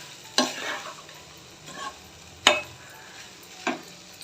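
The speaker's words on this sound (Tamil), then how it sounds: "ரைஸ்லேயும் வந்து சால்ட்டு சேர்த்துப்பாங்க அவ்வளோதான் சூப்பராக அடி வச்சு நல்லா கலந்து எடுத்துக்கணும்" Cooked rice and salt stirred in a pan for lemon rice, heard as four separate scraping knocks of a spoon, spaced a second or so apart, over a soft background hiss.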